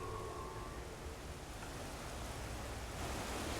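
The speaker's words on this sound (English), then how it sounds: "That's a waterfall noise." A waterfall in Guild Wars Factions gives off a steady, broadband rushing hiss, even and unbroken, at moderate level with no other sounds standing out.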